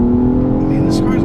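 A 2017 Nissan Maxima SR Midnight Edition with its 3.5-liter V6 pulling hard in first gear, a loud, steady engine drone heard from inside the cabin.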